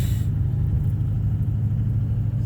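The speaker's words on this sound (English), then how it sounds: "I wanted to see what it was like driving on 7 cylinders with cylinder 5 unplugged, because it knocks pretty loud still" Cold Duramax LMM diesel engine running on seven cylinders with cylinder 5 unplugged and knocking, heard as a loud, steady low rumble from close by with no talking.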